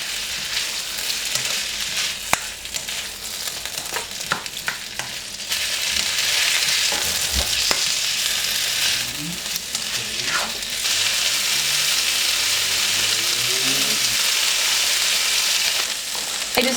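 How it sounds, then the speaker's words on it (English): Low-carb vegan noodles sizzle in a hot pan, the frying growing louder and steadier partway through, with clattering utensil scrapes and stirring strokes heard up close throughout. "Let those cook and just give it a stir every couple of minutes"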